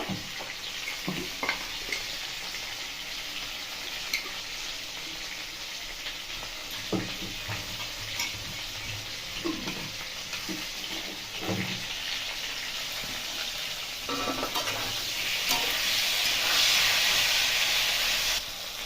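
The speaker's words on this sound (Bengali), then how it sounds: "কপি এখানে ভাজা হয়ে গেছে, কপিটা উঠিয়ে নেব।" Cauliflower frying in hot oil gives a continuous hissing sizzle with occasional pops and stirring taps, growing louder and brighter toward the end.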